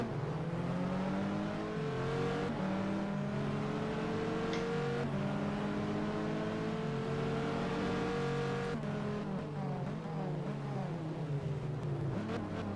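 A Viper race car's engine holds a steady, loud drone at FIA GT Zolder in a racing game, with pitch rising and falling through gear changes and other cars faintly nearby; no talking.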